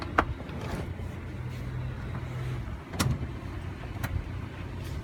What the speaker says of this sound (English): To access the third row, you pull from this lever here.